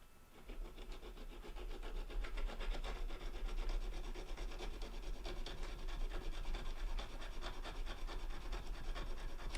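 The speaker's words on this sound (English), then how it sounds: "So a bit of filing will solve that" Steady, close rasping of a hand file working the sole bars of a D&S Models SE&CR six-wheel brake van kit, with continuous back-and-forth strokes at an even rhythm and no talking.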